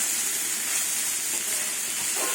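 Banana stem, pumpkin and garlic frying in hot oil give a dense, even hiss of sizzling that holds steady throughout with no voices.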